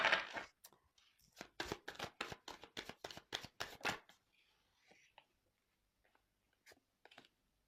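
Tarot cards are shuffled close up in a quick series of crisp riffling flicks, then go quiet apart from faint handling sounds.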